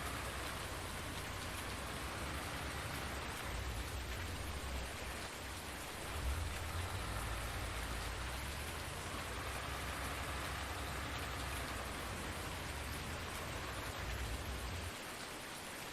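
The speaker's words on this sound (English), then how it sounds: "Man, is it ever going to stop raining?" Steady, dense rain falling in the farming video game Farming Simulator 19, a continuous even hiss of raindrops on surfaces with a low rumble underneath and no talking.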